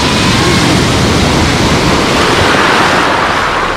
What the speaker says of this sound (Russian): волнение на море.